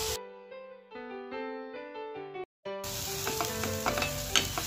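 Ground masala paste frying in a hot tempering, a steady sizzle and crackle that swells partway through, with sustained tonal music layered over it.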